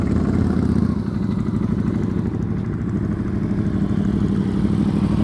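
Motorcycle engine running after starting, a steady low rumbling idle with fine rapid pulsing and slight clatter, close and even in level, no voices.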